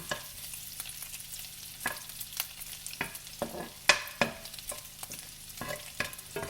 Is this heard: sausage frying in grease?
yes